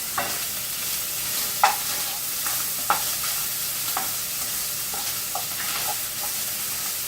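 Italian sausage frying in a pan with no salt or pepper added, a steady close sizzle broken by a few sharp scrapes and clicks as it is stirred, with no voices.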